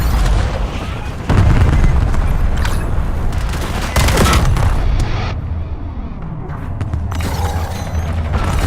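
Rapid bursts of hand cannon gunfire in the Destiny 2 video game, loud and close, layered with booming impacts and mechanical effects in a dense battle mix.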